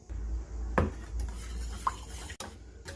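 Lemon cake batter with lemon juice and milk stirred in a bowl, a utensil scraping and clinking against the sides in a steady close rhythm with a couple of sharper knocks.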